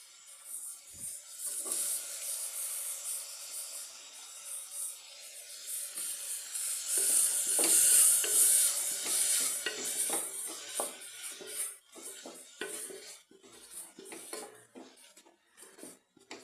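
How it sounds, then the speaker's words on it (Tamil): Chopped tomatoes with onions fry in a pan for a bottle gourd sambar, a hissing sizzle broken by repeated scraping stirs and metal clinks of a spoon against the pan, louder in the middle. "தக்காளி நல்லா வதங்கிடுச்சு"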